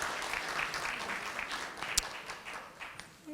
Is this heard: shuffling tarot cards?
no